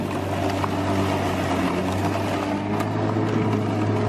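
A lawn mower engine drones steadily up close, with a constant low hum and no breaks or speech.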